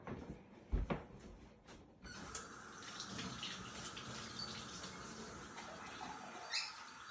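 Cold tap water runs steadily into a cooking pot at a kitchen counter, a continuous hissing splash that starts after a couple of soft clunks and flows on for several seconds.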